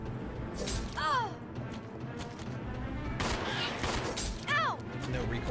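Pistol fire in the video game Resident Evil Zero HD on Switch, a few sharp shots amid rapid game combat noise and cries, with a voice talking over the action.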